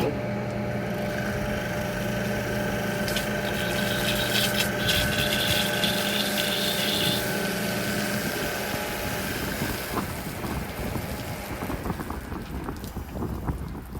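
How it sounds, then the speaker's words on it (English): A pressure washer runs steadily while being winterized, pushing water out of the system, a continuous loud pump-and-motor drone with some wind buffeting and no break. "And we'll run it some more, keep pushing water out."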